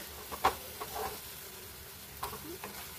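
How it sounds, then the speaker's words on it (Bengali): A banana-flower mixture for mochar dhoka fries and sizzles in a pan, with a soft hiss broken by a few stirring scrapes. "খুব ভালো করে ভাজা ভাজা করে নেব"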